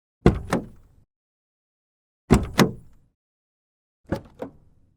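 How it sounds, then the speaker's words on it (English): Hydraulic door-opening effect from the Igniter sound library, heard three times in a row, each a sharp mechanical clunk followed by a second thud and a short hissing tail, alone with silence between. "And I chose the door open number 2."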